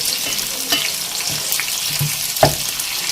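Spices, onion, tomato and green chili frying in hot oil for a quick chicken curry: a steady close sizzle with a few sharp stirring scrapes and clinks.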